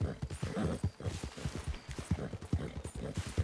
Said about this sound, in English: Is my horse faster than yours?